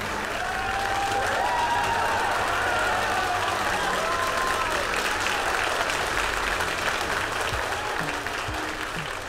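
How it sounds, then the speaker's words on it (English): Sustained applause and cheering from a crowd in a rocket launch control room greet a successful Electron stage separation and second-stage ignition, steady and dense throughout, with faint voices and tonal chatter mixed in. "As you can probably tell from that applause, we have had a successful MECO stage separation and second stage engine start for Electron"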